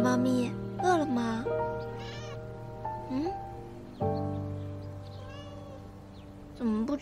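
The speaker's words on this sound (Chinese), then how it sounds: "小猫咪饿了吗？" A hungry kitten meows repeatedly, several short rising and falling cries spaced a second or two apart, close and clear over a steady, sustained musical backdrop.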